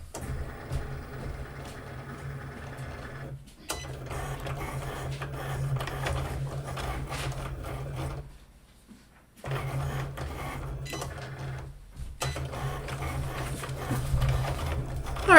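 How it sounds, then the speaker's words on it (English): A home printer runs through its cycle while printing shamrock sheets for St. Patrick's Day cupcake crafting, sounding a steady mechanical whir with a short pause partway through, close and moderately loud. "so they should come out on my printer here"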